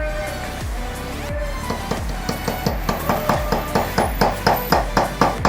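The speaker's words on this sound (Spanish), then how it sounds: "Los golpes que le vamos a dar no son fuertes." Light hammer taps seat a wedge during a bearing replacement, a series of short sharp metallic knocks that start sparse, then settle into a quick, even rhythm, close by.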